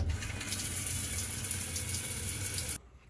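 Water runs steadily from a shower for a few seconds in a home bathroom, a constant hissing spray, then cuts off abruptly near the end.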